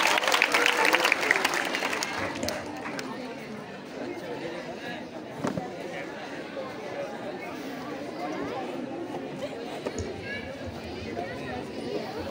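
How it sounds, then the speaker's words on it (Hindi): Applause and crowd chatter at a Hindi kavi sammelan as a new chemistry teacher is welcomed, a loud burst at first that settles into steady clapping and murmuring babble under some talk. "जोरदार तालियों से स्वागत करिए हमारे न्यू केमिस्ट्री टीचर का।"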